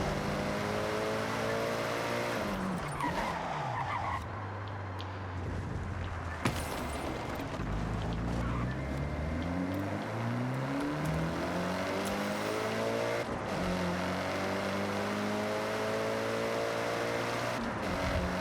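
Car engine droning steadily while driving in Forza Horizon 6 in Japan, with repeated rising and falling revs through gear changes, loud and continuous throughout.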